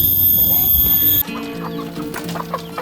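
Chickens in a raised coop or box pen clucking loudly and close, a busy overlapping flock with a steady hum in the first part, then scattered clucks and calls.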